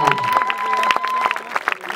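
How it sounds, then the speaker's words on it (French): Spectators applauding a runner at a trail race finish, scattered clapping and crowd noise under a loud announcer's voice, with music playing. "Vous pouvez l'applaudir."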